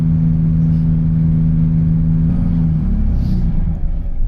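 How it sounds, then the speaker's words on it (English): A FlixBus diesel engine idling with a deep steady rumble, then dropping and winding down as it shuts off, loud and close from inside or beside the broken-down bus. "Engine on, rev up, off."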